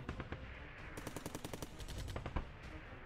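Rapid machine-gun fire from the tank game Arms Trade Tycoon Tanks strikes a tank in a fast, regular burst of sharp, loud reports that runs without a break for a few seconds.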